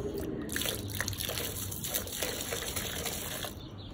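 Water mixed with Clorox bleach pours steadily into a container for plant pest treatment, a continuous close gushing splash with no talk over it.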